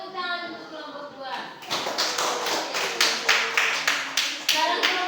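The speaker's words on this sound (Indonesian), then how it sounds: "Tepuk tangan untuk kelompok 2." Classroom applause for a student group in a science lesson on the solar system, starting after a short lull as a burst of scattered hand claps that settles into a steady run of rhythmic claps, close and fairly loud.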